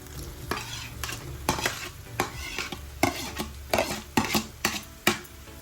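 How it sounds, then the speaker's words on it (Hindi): Boiled eggs being stirred through a frying spice masala in a pan, with a steady sizzle underneath and repeated scraping clinks of the spoon against the pan, close and continuous. "पकई के ताको हल्के हाथ रे चलाइबा। अंडा को हमें धीरे धीरे मिक्स करवा"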